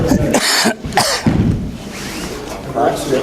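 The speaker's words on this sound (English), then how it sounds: "Okay, you got that cough thing." A man coughs repeatedly during a judo class, with harsh throat-clearing bursts close by that alternate with quieter breathy pauses, while people talk nearby.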